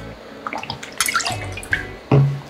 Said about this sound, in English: Add 3/4 of an ounce of lime juice, 1 ounce of lemon oleo,